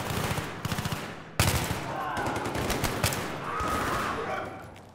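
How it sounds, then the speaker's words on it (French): Sniper and other gunfire during a firefight in the video game Battlefield 3, with rapid bursts of shots and loud cracks over a constant noisy battle backdrop, faint voices in the mix. "Le sniper qui nous tire dessus"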